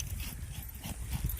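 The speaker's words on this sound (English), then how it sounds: "The dog is a little excited right now." An excited dog, named Boo, whimpers and yips in short, high, strained bursts close by, on an adventure ride through the Texas Hill Country.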